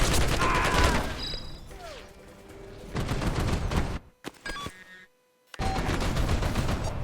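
A big gun in the video game Mercenaries 2 fires in loud, rapid bursts. Heavy rattling volleys are broken by short pauses, and other game sounds drift in during the gaps before the fire resumes.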